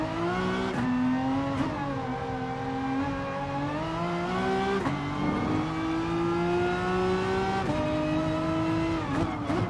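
A Renault Mégane Trophy race car in Gran Turismo Sport laps the Nürburgring. Its engine drones loud and close, climbing in pitch through each gear, then dropping sharply at every upshift, with no talk over it.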